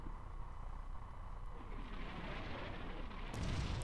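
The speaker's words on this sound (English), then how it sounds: "Those were my artillery rounds that I called in." Artillery rounds exploding in Combat Mission: Fortress Italy make a low, continuous distant rumble, with a heavier blast swelling up near the end.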